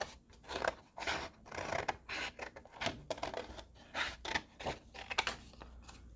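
Scissors snip through paper, cutting out a watercolor painting in a series of close, crisp cuts, each with a quick rasping slide between them.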